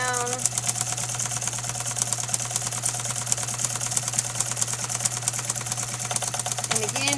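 Sewing machine stitching fabric along a line with the bottom fabric, a fast, even mechanical clatter running continuously at close range for about seven seconds, with a steady motor hum beneath and a short squeak near the end.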